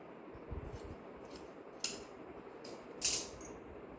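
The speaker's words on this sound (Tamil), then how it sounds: "லைனிங் கிளாத்தை புனையாக இருக்குது, கரெக்டாக வெட்டி எடுத்துக்கலாம்." Scissors cutting lining cloth for an umbrella gown, soft low snips early on, then a few sharp bright metallic snaps spaced apart, close and quiet with no speech.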